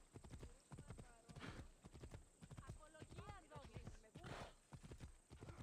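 Horse hooves clip-clopping at a steady riding pace in Assassin's Creed Odyssey, rhythmic close thuds with a brief whinny partway through and faint talk underneath.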